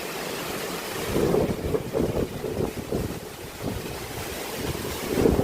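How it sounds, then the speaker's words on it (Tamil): Strong wind at night in Mullaitivu, Sri Lanka, buffets the microphone in rumbling gusts strong enough to break trees, with a constant roar like surf or rushing water underneath and no voices. "இப்படி காற்று மரம் அப்படியே முறிகிற மாதிரி அடிக்குது காற்று"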